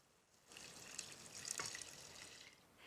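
Vegetable stock poured from a container into a pot of jackfruit, a steady liquid splash and trickle rising after a quiet start and continuing for a few seconds, close and fairly soft with no talking.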